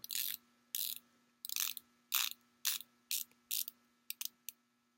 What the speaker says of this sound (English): The bezel is 120 click. It rotates very nicely.